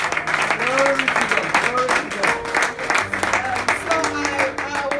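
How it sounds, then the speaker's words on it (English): Church congregation clapping in praise during a testimony service, steady applause throughout with voices and sustained tones running underneath it. "Should be clapping for God for that."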